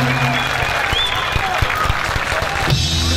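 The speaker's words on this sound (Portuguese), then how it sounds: "Recebam com carinho e aplausos" A large crowd at the outdoor Jovem Guarda 30th anniversary festival in Vale do Anhangabaú applauds to welcome a singer, with loud sustained clapping, scattered cheers and some voices mixed in.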